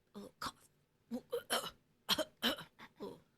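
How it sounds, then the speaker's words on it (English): A series of short, throaty coughs from Sam in a Supernatural episode, small dry bursts grouped in quick clusters, close and fairly quiet with gaps of silence between them. "And then has a little cough."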